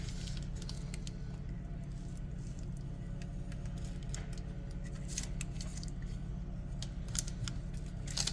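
An almond flour crust keto supreme pizza being sliced, with repeated crisp crunching cuts and clicks over a steady low kitchen hum, close and continuous.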